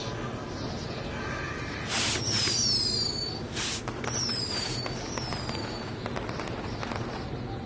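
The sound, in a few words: fireworks going off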